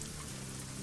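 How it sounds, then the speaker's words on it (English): Steady rain falling in the truck-driving game American Truck Simulator, Sierra Nevada setting with a Mack Superliner, an even wash of patter and low rumble throughout, no voices. "It was just raining and raining and raining."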